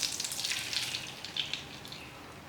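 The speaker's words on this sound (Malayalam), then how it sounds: "നമ്മൾ കലക്കി വെച്ചിരിക്കുന്ന മുട്ടയുടെ കൂട്ട് ഒഴിച്ചു കൊടുക്കുകയാണ്" A beaten egg mixture hits a pan on low flame for a bread omelet sandwich, giving a soft, steady frying hiss with slight bubbling that stays fairly faint and even across the moment.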